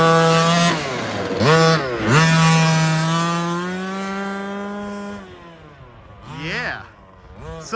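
A 30cc gas-powered RC rally car engine, not yet warmed up and fitted with a restrictive exhaust pipe, revs at half throttle in loud, buzzing bursts that rise and fall, with a few sharp blips near the end.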